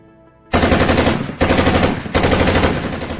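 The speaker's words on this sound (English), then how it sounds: "They set up their machine guns, took aim" Machine guns open fire in three long, loud bursts of rapid, dense shots, heard close with brief gaps between the bursts.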